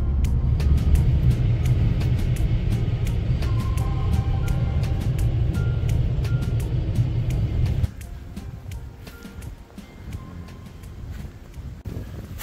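A car travels at about 35 to 40 miles an hour on a winter road, with a loud, steady cabin rumble and road noise that drops to a quieter hum partway through, plus faint clicking.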